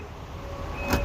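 The power tailgate motor on an Infiniti FX/QX hums quietly as the hatch closes, ending in a short latching thud at the end of the brief run.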